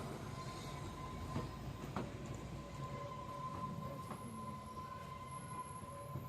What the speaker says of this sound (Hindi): उस ट्रेन का नाम है हिम दर्शन एक्सप्रेस।